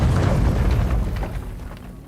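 A deep explosion in the video game Avowed, a loud booming rumble that rolls on and slowly fades over about two seconds, with no voices over it.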